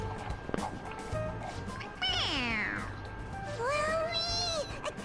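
A stuffed toy cat in Persona 5 Royal meows when its head is pressed, giving two drawn-out synthetic meows over a low background hum.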